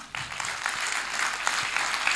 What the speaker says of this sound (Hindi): इनके लिए तालियां बजाइए